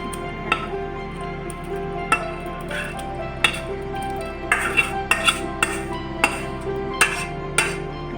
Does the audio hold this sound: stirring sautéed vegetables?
yes